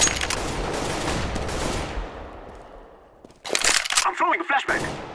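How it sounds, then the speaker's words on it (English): Flashbang grenade thrown during a competitive Counter-Strike match, heard amid dense bursts of in-game gunfire and cracks, followed by a short lull and a fresh round of sharp, loud bangs and clatter. "Throwing a flashbang."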